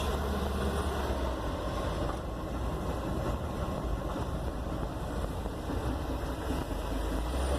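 A 1964 Corvair Greenbrier van with its FC engine drives along, a steady low engine drone and road rumble filling the clip without pause, heard from inside the van.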